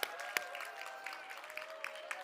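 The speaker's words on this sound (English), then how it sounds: "Big round of applause." Applause from an event audience returning after a break, a faint, steady wash of clapping with a few sharper claps standing out near the start.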